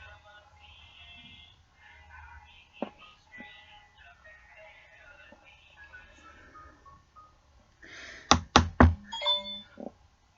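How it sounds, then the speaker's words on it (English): A phone chimes with a text notification, a quick burst of several short bright tones close by near the end, following a quiet stretch with faint background sounds and no speech. "somebody is texting my phone"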